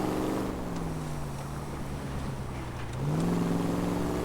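A three-wheeled, front-wheel-drive car in the video game L.A. Noire, its engine droning steadily at a low pitch, then rising in pitch and loudness near the end as it accelerates.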